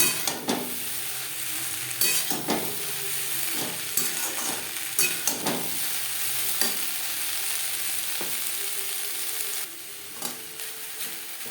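Drumstick flowers and eggplant being stir-fried in a pan, with a continuous sizzle broken by repeated scraping and clinking strokes of a spatula, close and fairly loud.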